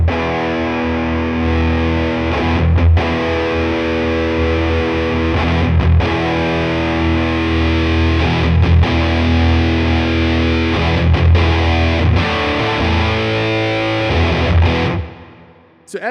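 An electric guitar played through a Mythos Pedals Positron Fuzz pedal with the intensify control cranked gives thick, buzzy distorted chords with bright, treble-heavy edges, ringing loud and sustained with a few choppy breaks before cutting off near the end.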